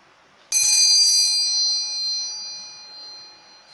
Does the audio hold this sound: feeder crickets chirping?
no